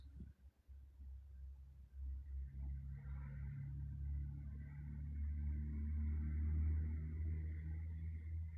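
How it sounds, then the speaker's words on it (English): A motorcycle passes outside, a low engine rumble rising and building steadily as it draws nearer, heard muffled from indoors with no talking. "so there was a motorcycle outside"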